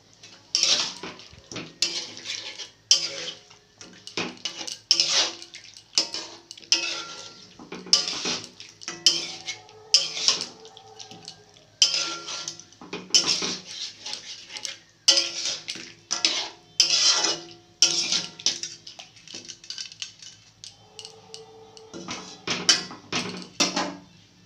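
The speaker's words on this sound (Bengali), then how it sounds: "তাই একটু জল দিয়ে এবার এটাকে কষিয়ে নেব" Ground spices being stirred with a little water in a pan while making home-style chicken biryani: a close series of scraping, clinking spoon-on-pan strokes in uneven bursts, with short pauses between and no talking.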